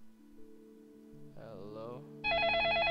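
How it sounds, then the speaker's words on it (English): In the Facade video game, a loud electronic telephone ring starts near the end, following a stretch of quiet game sounds and a brief voice. "I'm gonna answer the call. Phone."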